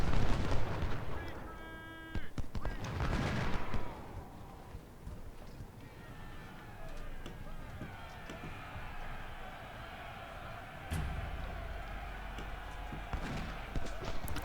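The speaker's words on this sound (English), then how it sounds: "We can get accurate cannon fire into them." Cannon fire and musket volleys from a Civil War battle in the strategy game Ultimate General Civil War, with booming shots near the start and several more scattered across the battle, amid a steady rumbling background din.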